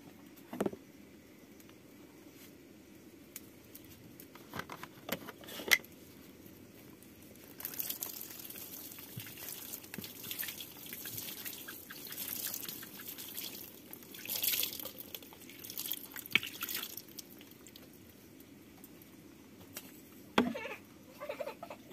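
Vegetables washed by hand under running water in a rural home kitchen, a soft trickling stream broken by splashes and drips, fairly faint and continuous, with occasional brief speech.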